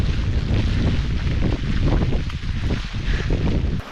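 Strong wind roars continuously across a misty, deserted hillside, buffeting the microphone with a loud, rumbling gusty rush and no voices.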